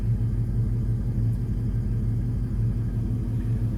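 A Ford Mustang idling with a small exhaust leak, a deep steady rumbling engine with a throbbing low pulse, close and continuous, no talking.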